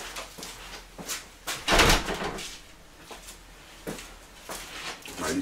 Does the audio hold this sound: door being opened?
yes